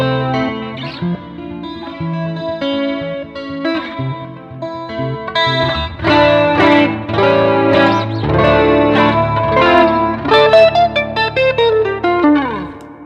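A Fender Ultra Jazzmaster electric guitar with a surfy tone, played alone for a dozen seconds through chorus and reverb-style effects, moving from sparse notes into a fuller strummed and picked passage.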